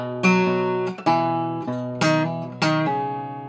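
An acoustic guitar plays a short passage from a song: several ringing chords and bass notes, each struck and left to sustain, with a clear, close, solo tone and no voices.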